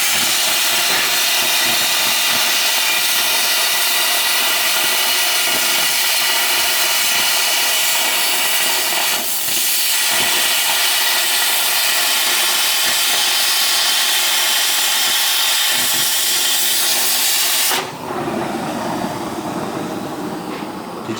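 A welding torch works on steel with a loud, close, continuous hiss. Near the end it drops to a duller, lower rush.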